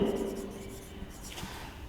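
Pen or pencil scratching across paper while a math condition is written out, a soft continuous rubbing with a low hum behind it, close and fairly quiet, no voice over it.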